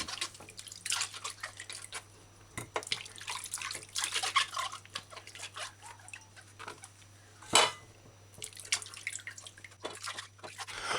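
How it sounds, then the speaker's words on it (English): Mango skin rubbed clean by hand under running water, splashing and dripping near at hand with one louder splash midway, with no voices. "Use your fingers and rub the skin. Wash the mango skin clean."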